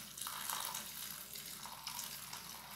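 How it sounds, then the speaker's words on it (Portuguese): One liter of boiling water pours steadily into a container for making a homemade fabric softener, a continuous broadband splashing rush heard close up and alone, without pauses. "Então eu resolvi colocar 1 litro de água fervente"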